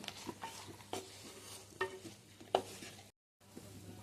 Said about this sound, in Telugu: కలుపుకొని కాసేపు జీరా పొడి ధనియాల పొడి కూడా బాగా పట్టినంత వరకు కాస్త వేయించుకోవాలండి